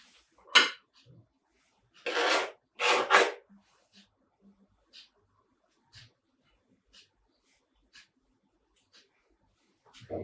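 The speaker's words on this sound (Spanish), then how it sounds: "lo que vamos a hacer ahora es cortar la col" Knife slicing through cabbage: three short rasping cuts, the last two close together, each loud and near, followed by scattered faint taps on a cutting board in an otherwise quiet kitchen.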